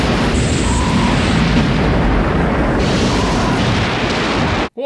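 Grenade explosion in the film They Live: a loud, sustained roaring blast that fills the whole stretch before cutting off abruptly near the end, with no voices over it.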